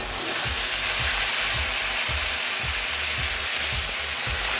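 Okra added to lightly fried potatoes in hot oil sizzles loudly and steadily in a pan, with a continuous hiss and a rhythmic low thumping of stirring underneath.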